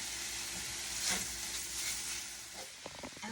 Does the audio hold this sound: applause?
no